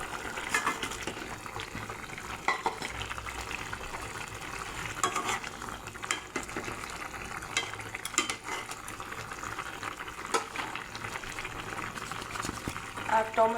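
Curry broth with potatoes bubbles and simmers in a covered pot for a hilsa fish curry, a soft, steady boiling hiss with faint scattered pops and light stirring clicks.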